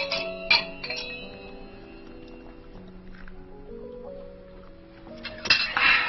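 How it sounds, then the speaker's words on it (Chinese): Glasses clinking in a toast at a dinner table: a bright clink near the start and another near the end, over a quiet, soft tonal background. "来， 干 杯！ 干 杯！ 干杯！"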